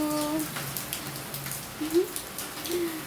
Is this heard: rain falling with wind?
yes